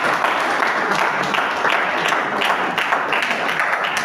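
A church congregation bursts into loud, sustained applause, dense overlapping clapping filling the room for several seconds, with some voices mixed in.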